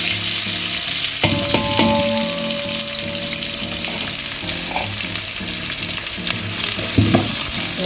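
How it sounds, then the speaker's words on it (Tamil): Onions frying in a pan for mutton dum biryani give a loud, continuous sizzle with occasional stirring scrapes, while pitched background music plays underneath. "வெங்காயம் இந்த அளவுக்கு வதங்கிடுச்சு."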